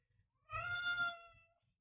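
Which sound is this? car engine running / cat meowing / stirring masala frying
cat meowing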